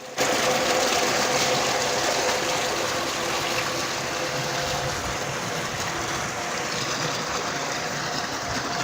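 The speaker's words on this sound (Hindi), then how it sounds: "बंदा खेतों को पानी लगा रहा है।" A water pump irrigating fields runs in a steady, loud rush of gushing water with an even mechanical drone throughout.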